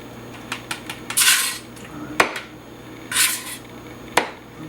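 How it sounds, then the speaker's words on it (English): Lemon zest scraped for a Creamy Tuscan shrimp sauce: a string of sharp metallic clinks and bright rasping bursts, close and clear, with short pauses between the strokes and no talking. "I'm going to make for the sauce some lemon zest"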